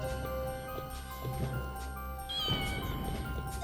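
A cartoonish cat meows in the Fullmetal Alchemist 2 video game on PS2, set over steady looping game music with faint ticking; a single meow stands out near the middle.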